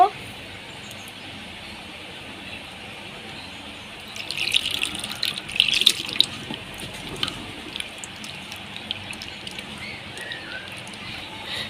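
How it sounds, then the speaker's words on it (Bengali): Cold water is poured over grated mango in a bowl, giving a soft splashing trickle that rises and falls for several seconds, fairly close, under a low background hum. "এইবার এর উপরে ঠান্ডা জল দিয়ে দেব।"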